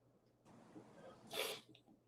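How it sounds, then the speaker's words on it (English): A single sharp sneeze bursts out after a soft intake of breath, fairly close and brief, with quiet room tone around it. "I'm going to sneeze really bad."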